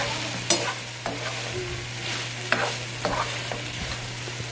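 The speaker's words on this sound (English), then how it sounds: "just continue to mix it around. Until it's well coated" Tofu being stirred in a sizzling frying pan while cooking crisp hoisin tofu cups: continuous frying sizzle with several sharp scraping and knocking stirring strokes at irregular intervals, close up, with a steady low hum behind.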